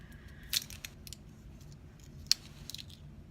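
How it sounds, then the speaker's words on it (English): A sticker on a makeup pencil gives a few sharp, faint crinkly clicks and scrapes close by against a quiet background. "If you hear that noise, it's just the pencil sticker on there."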